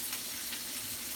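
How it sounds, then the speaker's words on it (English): Turkey wings sizzle in a hot skillet, a steady crackling hiss close by with no talking. "Y'all ready to hear that sizzle, my nizzle? Get in that skillet."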